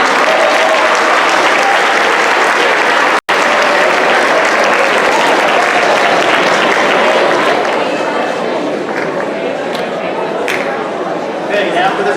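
A large junior high school audience applauds 8th grade award winners at a 2017 awards ceremony, with dense, sustained clapping that fills the hall, a brief dropout near the start, and a gradual thinning toward the end.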